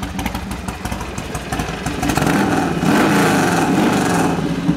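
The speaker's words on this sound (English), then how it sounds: "I'm here today to show you a 2006 Harley Davidson 1200 Sportster Custom. It's got a 2-into-1 Kirker header." A 2006 Harley-Davidson 1200 Sportster Custom with a Kirker 2-into-1 header idles loud and close, its lumpy V-twin exhaust lope swelling as the throttle is blipped partway through.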